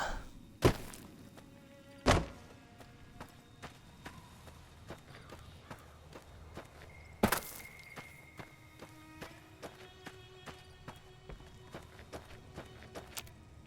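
Running footsteps cross the ground toward a workbench in Fallout New Vegas, heard as soft regular thuds with a few louder thumps near the start, set over quiet game ambience.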